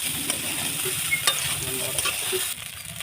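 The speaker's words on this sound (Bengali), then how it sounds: "ভাত দিয়ে আবারও মিশিয়ে নেব মশলার সাথে সুন্দর করে" Cooked rice is stir-fried with spices in a pan, a continuous close sizzle with scraping stirring strokes, steady and loud.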